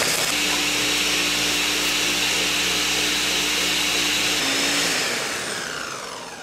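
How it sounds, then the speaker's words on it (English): A blender whirs steadily at full power, crushing fruit for a dark rum cocktail, loud and continuous with no talk, then winds down near the end as the motor slows. "Now that it's in the blender,"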